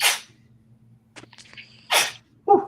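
Two sharp sneezes ring out near the mic at a UFC Abu Dhabi fight watch stream, separated by a quiet stretch with a short exhale and a faint whistle-like tone, and a third brief burst at the very end.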